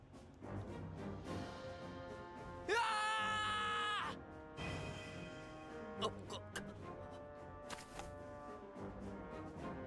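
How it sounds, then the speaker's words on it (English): An Inazuma Eleven video game character lets out a loud, sustained tonal scream lasting over a second, set against game music and effects with other brief shouts around it. "Why did he just scream like that?"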